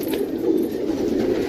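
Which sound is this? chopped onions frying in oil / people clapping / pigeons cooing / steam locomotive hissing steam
pigeons cooing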